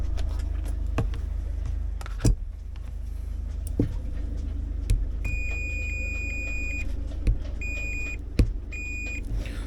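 Several short electronic beeps ring out in a broken pattern over a steady low engine idle aboard a 55-year-old sailboat, with a few faint clicks nearby.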